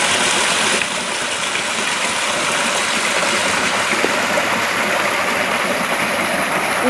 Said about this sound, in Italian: Una piccola cascatella.